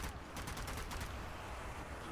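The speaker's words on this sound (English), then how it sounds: "So you got that machine gun, buddy." Sustained machine gun fire in the zombie shooter Zombie Army 4: Dead War, during a boat ride, heard as a dense rapid burst of rattling shots at low level, continuous for about two seconds.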